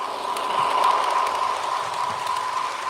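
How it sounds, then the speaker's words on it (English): A model train locomotive runs close to full speed pulling fourteen cars, giving a steady whirring hum with faint rhythmic clicks, close and fairly loud with no voices. "2 notches away from full speed on this locomotive."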